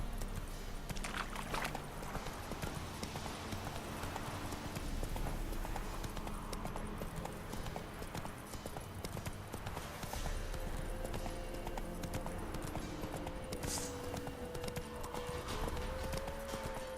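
Rhythmic clip-clop of a horse galloping in The Witcher 3 video game, hoofbeats steady and prominent for the whole stretch with faint game ambience underneath.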